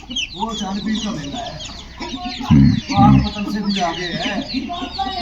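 A hen with two chicks on a small home poultry farm clucks repeatedly, close and clear, with a pair of louder, fuller clucks in the middle while someone talks over the scene.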